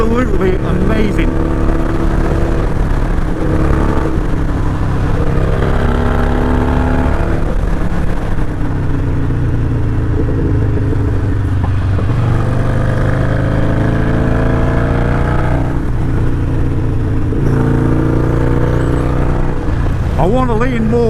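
A Harley-Davidson FXDR with a Screamin Eagle Stage 1 tune and Pro Tuner map roars loud and close while riding, climbing through the revs with heavy wind rush throughout.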